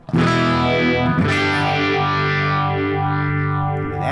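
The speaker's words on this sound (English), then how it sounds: "let's try a phase shifter" Electric guitar played through a phase shifter pedal in a live effects-order demo, with distorted sustained chords under a sweeping, swirling tone that rises and falls steadily across a few seconds, loud and alone.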